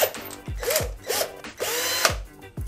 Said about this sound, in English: Sometimes drilling in reverse and pressing into it actually works.